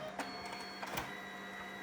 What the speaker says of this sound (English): I'm going to hit print on this 4x6. And it should start printing the photo.